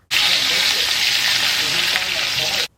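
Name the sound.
blackened fish searing in hot oil on the stove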